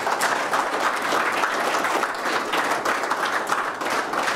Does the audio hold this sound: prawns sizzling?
no